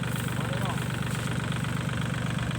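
An L36 tractor stuck in mud runs with a steady, throbbing mid-pitched engine rumble, close by, while voices talk over it.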